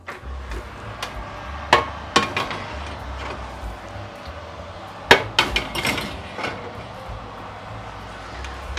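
A metal meatloaf pan goes into a kitchen oven for a 1950s-style recipe, making sharp clanks and clinks around the second and fifth seconds, with a steady low hum of the oven underneath and no talking.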